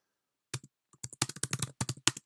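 Quick bursts of typing on a computer keyboard, close and crisp, with a brief pause after the first few keystrokes and then a denser run of clicks.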